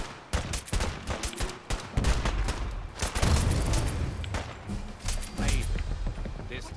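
Gunfire in Fallout 4 Far Harbor, a foggy coastal fight against attacking gulpers: dense bursts of rapid shots and booming impacts, loud and close, crowding together for several seconds with shouting voices mixed in.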